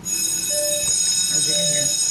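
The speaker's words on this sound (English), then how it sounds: "So I'm on the train." Train running on rails, heard from onboard as a steady, loud rumble with a faint metallic whine and squeal above it, continuous throughout with no break.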